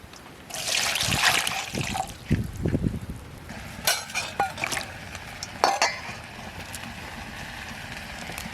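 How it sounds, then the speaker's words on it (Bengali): Water splashes and trickles into a pan of potatoes and green banana, a steady close pour lasting a couple of seconds, followed by spoon clinks and stirring against the pan. "এবার জল দিয়ে দিলাম"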